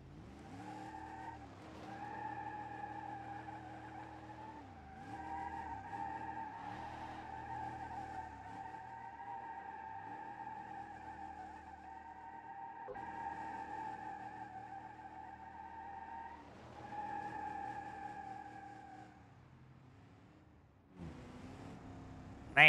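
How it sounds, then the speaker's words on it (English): A 1970 Dodge Coronet R/T Super Bee with a 426 engine does a long burnout, its tires squealing in a sustained, wavering howl for about twenty seconds before cutting off, with no talking. "I'm gonna see if I can do a burnout here after this intersection clear."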